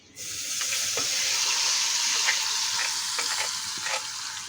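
Seeds crackle and sizzle in hot oil for a tempering in a home kitchen, making a loud, continuous frying hiss close by, broken by scattered pops and stirring scrapes.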